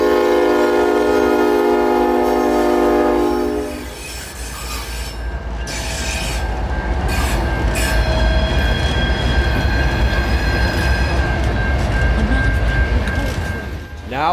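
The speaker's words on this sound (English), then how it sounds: "we get back to the tracks in time for N319 at 9:45 p.m." CSX N319, a southbound coal freight on the Western & Atlantic line in Dalton, rolls past at night, opening with a loud sustained horn blast before heavy wheel rumble, clatter and squeal carry on steadily close by.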